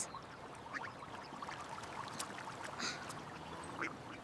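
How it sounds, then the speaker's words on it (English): Ducks quack in scattered short calls on a park lake, faint and somewhat distant over a soft, steady outdoor background. "Look at the ducks."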